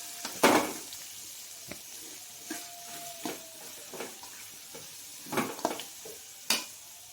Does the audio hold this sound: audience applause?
no